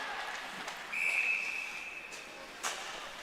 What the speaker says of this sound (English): we do have a whistle.